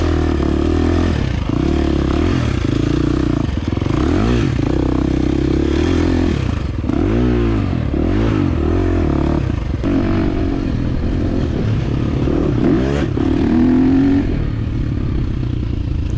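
A 2023 KTM 350 XC-F dirt bike engine revs hard throughout a scramble race, its loud, close drone rising and falling with throttle blips and gear changes, with clatter and scraping from the track mixed in.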